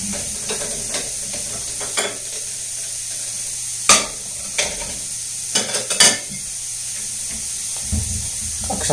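Mushrooms fry in a pan with a continuous close sizzle and hiss, broken by occasional stirring scrapes and taps.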